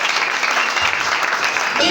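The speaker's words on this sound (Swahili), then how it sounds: "Pigia Bwana Yesu makofi mazuri." Congregation clapping in a church service, a dense, even burst of applause heard close and loud throughout the short stretch, with no pause or break.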